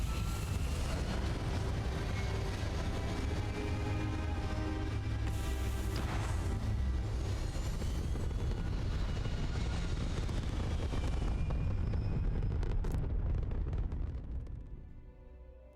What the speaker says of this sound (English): Thrusters firing.